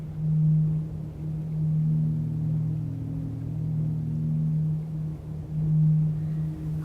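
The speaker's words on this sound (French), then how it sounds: "c'est le son du vent qui souffle dans des tubes." Wind blowing through tubes high on Chacaltaya mountain in Bolivia makes a steady, hollow low whistle, a sustained drone with faint overtones that swells and fades slightly as gusts pass.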